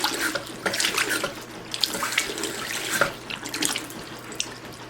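Water running from a farmhouse faucet fitted with a new cartridge, a steady splashing stream into a sink with irregular gurgles and drips, moderately quiet and heard alone.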